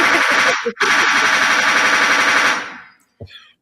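Rapid gunfire sound effects play between rounds of a talk show, a dense rattling burst lasting over two seconds with a short break early on, then a brief faint tail after it stops.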